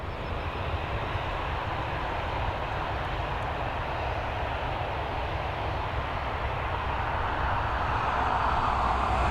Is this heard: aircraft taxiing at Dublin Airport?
yes